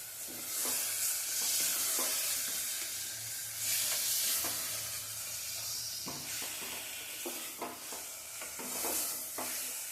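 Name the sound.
chicken sautéing in oil on a stove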